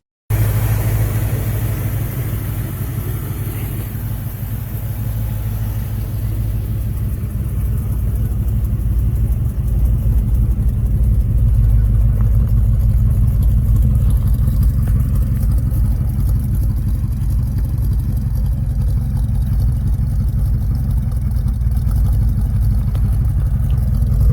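A 1972 Ford F-100 Shortbed pickup idles steadily, its old engine giving a continuous low rumble that holds close and even for the whole stretch, with no voices over it.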